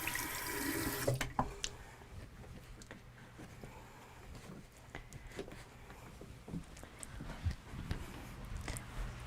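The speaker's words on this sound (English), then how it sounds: "So I am sorry you have to listen to me wash my hands." Faint running tap water splashing in a sink, with soft clinks and drips as hands are washed, close by and without talking.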